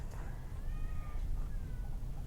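A friendly cat gives a couple of faint, drawn-out meows over steady low background rumble, with no one speaking.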